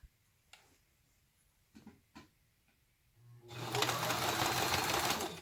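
A sewing machine stitches a zipper pouch, starting after a few soft handling taps and then running as a loud, steady whir for the last two seconds.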